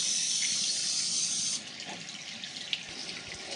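A steady hiss of water spraying from a garden hose onto plants, loud and continuous for about a second and a half, then cutting off to a faint background.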